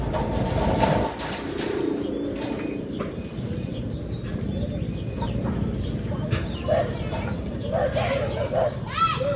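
Pigeons coo softly and shuffle about close by, wings and feet rustling, while someone talks over them throughout.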